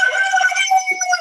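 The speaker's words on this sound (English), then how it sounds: "That's our rooster." Rooster crowing loudly and close by in a backyard chicken coop, one long drawn-out call that wavers and breaks near the end, with no talk over it.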